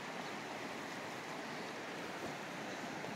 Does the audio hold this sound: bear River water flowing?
yes